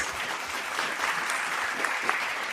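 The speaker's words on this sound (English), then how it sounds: "Big round of applause." An audience at the FameLab International Final 2024 science-talk competition applauds steadily, a dense, even wash of clapping from many hands that holds at a constant level throughout with no voices on top.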